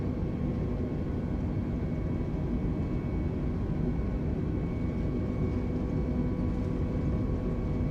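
Airbus A320neo jet engines held at takeoff thrust in Microsoft Flight Simulator 2020, a steady, loud, broadband roar with faint tonal whine, unbroken and without voices.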